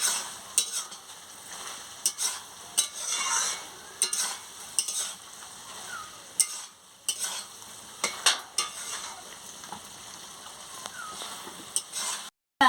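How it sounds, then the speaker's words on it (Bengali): A spoon stirs an ivy gourd and potato curry in a pan, sending repeated scraping and clinking strokes over a soft sizzle, close by and irregular in rhythm, with no talking. "এবার একটু আমি ভালো করে নাড়িয়ে নিচ্ছি"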